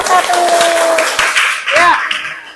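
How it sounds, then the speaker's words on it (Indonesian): Classroom applause for a student group after a poster presentation, a short burst of clapping mixed with voices and chatter, fairly loud throughout and tailing off near the end. "boleh beri tepuk tangan dulu buat kelompok 1"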